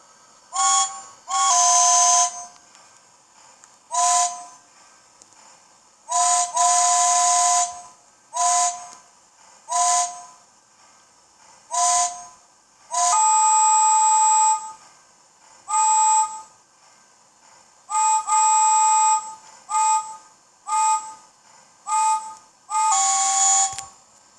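A Lionel LionChief toy train engine, James the Red Engine, sounds many short and long electronic steam-whistle toots at varying pitches, loud and close, separated by brief pauses.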